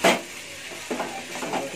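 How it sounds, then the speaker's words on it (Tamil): Tomatoes with ginger and garlic soften in a hot pan for a crab gravy, a near steady sizzle with a sharp stirring scrape at the start and a few softer spoon strokes later. "தக்காளியும் வதங்கிட்டுருக்கு"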